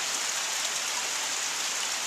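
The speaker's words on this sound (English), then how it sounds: "And it is pouring the rain." Heavy February rain pours steadily in a dense, even hiss on surfaces, close and unbroken, with no voices.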